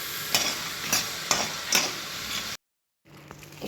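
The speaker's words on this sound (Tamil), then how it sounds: "மக்கானா, வால்நட்டு எல்லாமே நம்ம தனித்தனியாக வறுக்கணும்னு இல்லை, ஒன்றா கூட நம்ம போட்டு வறுத்துக்கலாம்" Makhana, walnuts and four cardamom pods dry-roasting together in a pan, with rhythmic scraping stirs and a light rattle of the pieces, close and steady, then a brief cut to near silence with faint rattling after.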